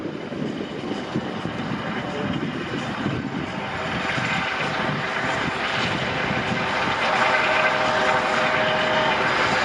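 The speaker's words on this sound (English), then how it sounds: "the noise you're hearing is from a dependable jet engine turning the rotors" Loud, steady whine and whir of a USCG MH-65E Dolphin helicopter's jet turbine spinning its rotors at an airshow, a continuous roar that swells slightly louder toward the end.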